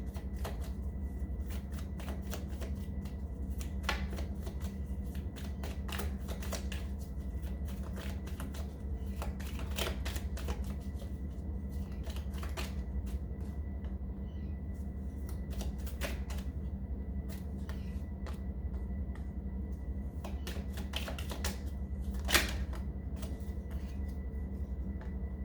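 Tarot cards are shuffled continuously for a long stretch, a dense run of crisp riffling flicks and slaps over a steady low background hum.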